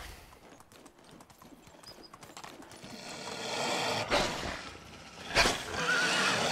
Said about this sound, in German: Steig auf das Pferd.